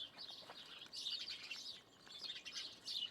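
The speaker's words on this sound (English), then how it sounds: "You hear all the birds." Small birds chirp and twitter in quick overlapping bursts, fairly close, with no voices, just the busy high chatter of several birds.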